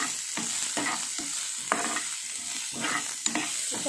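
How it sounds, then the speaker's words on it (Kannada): Two medium onions frying on low flame in a pan, with a soft steady sizzle broken by repeated rhythmic scrapes and taps of a spatula stirring them, close and alone. "ಸ್ವಲ್ಪ ಲೋ ಫ್ಲೇಮಲ್ಲಿ ಇಟ್ಕೊಂಡು ಸ್ವಲ್ಪ ಫ್ರೈ ಮಾಡೋಣ"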